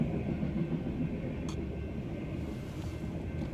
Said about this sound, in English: This is when the train hits and you got to end up waiting for it.